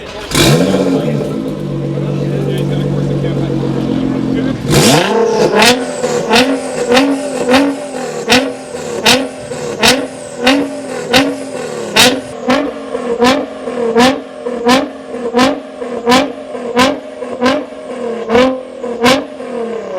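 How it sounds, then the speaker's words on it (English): A car engine idles steadily, then revs up and is blipped repeatedly in a quick, regular rhythm, each rev rising and falling, loud and close. "Okay, I'll rev it."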